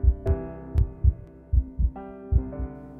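Heartbeat sounds in an art installation where five figures orbit a tree, a series of deep, soft double thumps in an uneven rhythm with a low hum beneath, close and clear with no talking.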